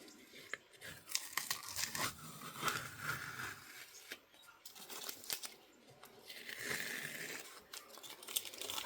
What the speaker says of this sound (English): Now let's remove the tape.